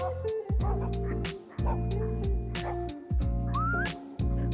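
Loud, close barking from doodles and a neighbor's dog meeting at a fence, sharp repeated barks in quick bursts with a brief whistle-like squeal among them.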